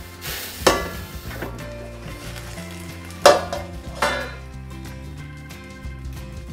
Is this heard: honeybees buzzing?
no